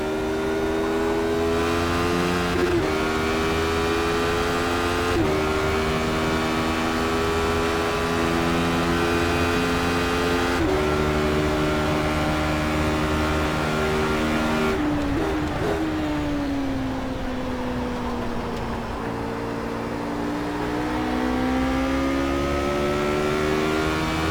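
Race car engine in the iRacing motorsport simulator, revving hard through the gears for the whole stretch, with brief dips at upshifts and one longer drop as the car slows for a chicane before climbing again.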